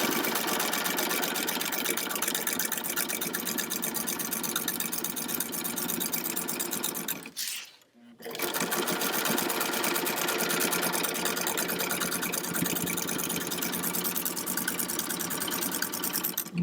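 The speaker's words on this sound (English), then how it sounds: "So we're going to sew this with a little bit longer stitch length" A sewing machine top-stitches fabric with a longer stitch length. It gives a steady, close, rapid mechanical whir that stops briefly near the middle, then resumes for a long continuous run.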